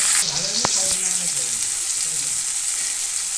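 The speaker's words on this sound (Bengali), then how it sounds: "এখন আমি দিয়ে দেবো টমেটো আর কাঁচা লঙ্কা এই সমস্ত কিছু দিয়ে একবার আমি কষিয়ে নেব" Tomato and green chili frying with spices in a pan, giving a steady, close hiss of sizzling oil with a couple of brief knocks and faint background voices.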